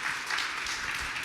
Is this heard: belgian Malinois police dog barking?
no